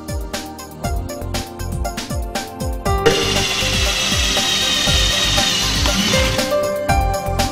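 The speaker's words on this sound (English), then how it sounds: "Mark the exact spot and drill the holes" A power drill whirs steadily, with repeated rhythmic grinding strokes underneath as it bites into a metal intake manifold, loud and close throughout.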